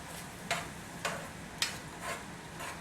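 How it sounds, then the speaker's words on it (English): Food stir-frying at high heat sizzles steadily in a hot pan while a utensil scrapes and taps through it in regular strokes, roughly every half second. "it's frying and you stir it"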